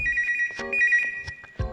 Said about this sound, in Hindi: हेलो, हाँ बुलाता हूँ। चतुर, तुम्हारा फोन है?